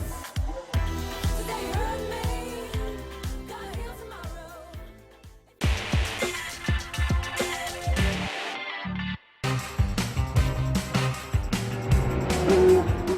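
Classic racing cars roar around the Dijon-Prenois circuit, with loud engines passing and revving in a rough rhythm, split by a few abrupt cuts and brief pauses.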